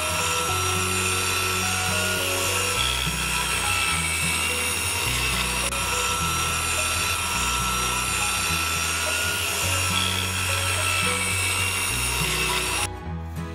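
A power saw cuts wooden fence boards into 1 by 3/4 by 21 inch pieces for a baby playpen fence. It makes a loud, continuous whine that steps up and down in pitch through repeated cuts, then stops abruptly near the end.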